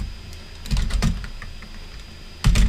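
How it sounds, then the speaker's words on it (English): Computer keyboard typing, with short clusters of close key clicks and taps separated by brief pauses, loudest in two bursts, with no talking. "we're going to type in repositories"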